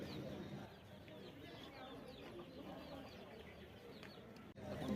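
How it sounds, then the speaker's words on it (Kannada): Native naati chickens clucking at the Dharwad agricultural fair, faint scattered clucks and chirps over a busy low murmur of crowd noise and distant voices. "ಇಲ್ಲಿ ನಾಟಿ ಕೋಳಿಗಳಿದಾವೆ ನೋಡಿ."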